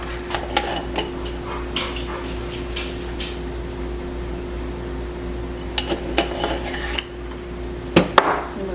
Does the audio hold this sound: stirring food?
yes